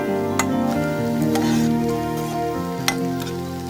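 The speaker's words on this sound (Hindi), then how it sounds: "प्याज हम सिर्फ ट्रांसपेरेंट होने तक ही भूनेंगे" Onions being sautéed until transparent for a spinach and walnut soup, a soft frying sizzle under a steady tonal hum, with a couple of brief utensil clicks.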